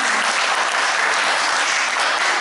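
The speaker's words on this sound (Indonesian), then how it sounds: "Boleh tepuk tangan untuk Pak Ino" Loud, dense applause from an audience at a human rights commission event in Madura, Indonesia, a continuous close roar of clapping with no gaps or voices.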